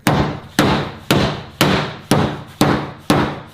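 Steady, forceful hammer blows land about every half second on Volkswagen Golf 8 GTI body panels during repair, each a loud close metallic strike with a short ringing decay.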